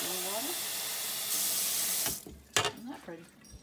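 Tap water gushes steadily into a kitchen sink during cooking, a loud, even hiss for about two seconds that cuts off abruptly, followed by a few clatters and some talking.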